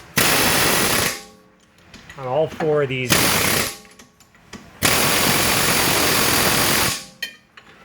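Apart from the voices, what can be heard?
pneumatic air hammer hammering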